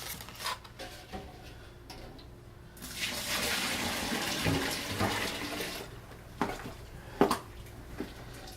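Liquid poured for recirculation during a beer brewing rinse, a steady wash of splashing and trickling water that swells through the middle and fades, with a few sharp knocks near the end.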